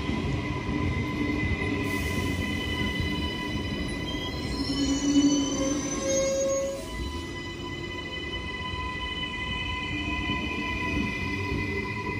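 A Queensland Rail train rumbles into Toombul station platform steadily, with a high metallic wheel squeal rising briefly before the noise settles into a constant low drone.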